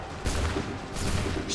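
Musket volley in Assassin's Creed III, a pair of heavy blasts crackling together, the first at a quarter second and another near one second, loud and close over a rumbling battle background.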